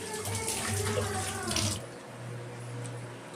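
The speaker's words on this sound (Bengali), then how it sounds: "এই পেয়ারাটা একটু ধুয়ে নিয়ে খাবো" Running tap water splashes steadily over a guava being washed in a home kitchen, a broad rushing stream that softens and thins partway through, continuing alone without talk.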